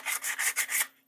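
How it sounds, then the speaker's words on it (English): Short, rhythmic rubbing strokes of sandpaper over an old Chicago Electric drill's case, five quick even passes close up, then fading out, with no talking. "we sanded the case down to 400."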